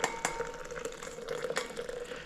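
A long-handled spoon scrapes and clinks against a container while water is stirred in, giving short irregular scratches and taps, close and soft, with no talk.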